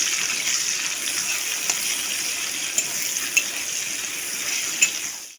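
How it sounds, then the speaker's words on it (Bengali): Chopped onion sizzling in hot oil in a pan, a loud continuous bright hiss and crackle held steady throughout, with a few faint clinks of a utensil against the pan. "এবার আমি যে পেঁয়াজটা কুচিয়ে রেখেছিলাম ওই পেঁয়াজ কুচিটা আমি তেলের ভেতরে দিয়ে দেবো। দিয়ে আমি পেঁয়াজগুলো ভেজে নেবো।"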